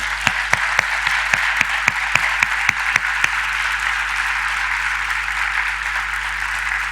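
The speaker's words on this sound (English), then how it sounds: "A round of applause to them" An audience at a conference applauds, a loud, continuous spread of many hands clapping with some sharper individual claps standing out at first, over a steady low hum, and no talking.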